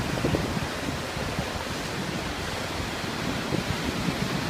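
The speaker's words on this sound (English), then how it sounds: "Now, as you can see, the waves are coming in" Ocean waves surge in and bounce off a sea wall, reflecting back against the incoming swell; a steady, loud broadband wash of surf and wind with no pauses and no voices.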